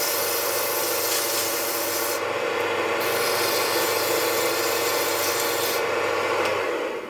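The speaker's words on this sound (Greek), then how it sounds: "θα το πάρω με το γυαλόχαρτο λίγο, μέχρι να έρθει τέλεια" Steady, continuous rasping of sandpaper scrubbing over lathe-turned wood, close up and unbroken for several seconds with no voices.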